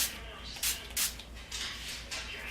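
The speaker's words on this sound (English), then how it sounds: "I've really been liking to spray the NYX Dewy Finish long-lasting setting spray first. So I spray that actually on my brush." NYX Dewy Finish long-lasting setting spray is misted onto a makeup brush in several short, close hissing bursts, with quiet pauses between them.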